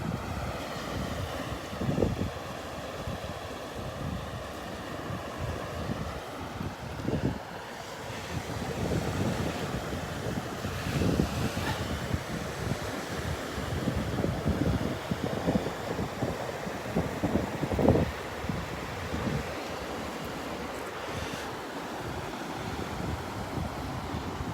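Surf rolls in on the Gulf beach at Delnor-Wiggins in Southwest Florida while wind buffets the microphone, a continuous roar with recurring wave surges and gusts over about twenty-five seconds.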